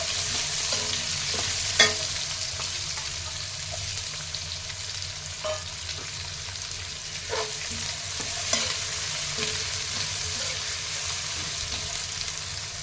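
Onion fries in oil for garlic chitranna, a continuous close sizzle broken by scattered scraping clicks as a spoon stirs the pan.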